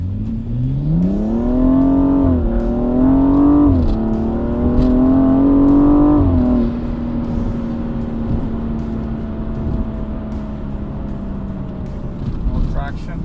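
A car with an AFE intake air scoop and K&N air filter accelerates hard on a 0 to 60 run, engine note rising in pitch through three gear changes before settling into a steady cruising drone.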